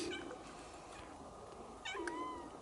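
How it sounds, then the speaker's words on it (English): Two faint meows from a small cat at Arkadi Monastery on Crete, one at the start and another near the end, soft and distant over a quiet background. "But only a small cat."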